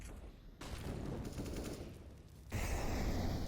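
AK rifle fire in a competitive Counter-Strike-style shooter match, sharp rapid bursts of shots in two loud stretches, close and dense, with no talk over them.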